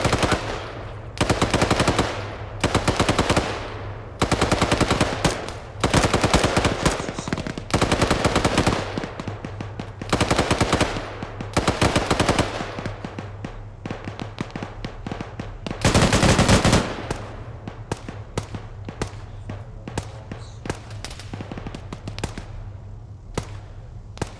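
Gunfire in Arma 3 during a military platoon training session, loud bursts of automatic fire and rapid single shots in clustered volleys with brief gaps, growing sparser toward the end.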